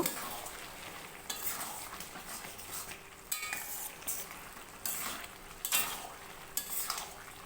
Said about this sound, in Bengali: চিংড়ি মাছ আর লাউ ভালো করে মিশিয়ে নেব